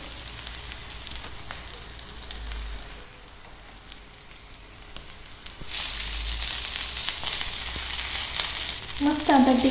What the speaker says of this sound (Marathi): आपण ही टिक्के दोन्ही पण बाजूने फ्राय करून घ्यायचे आहे